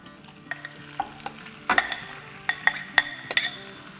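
Minced keema, about 750 grams, dropped into a hot pan sizzles softly while a metal spoon clinks and scrapes against the pan in quick, uneven strokes, close and clear with no talking.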